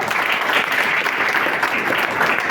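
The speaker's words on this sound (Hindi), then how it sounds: "तालियां चाहूंगा।" Steady, loud applause from a large audience at an RCM business seminar in India, continuous and dense throughout with no break.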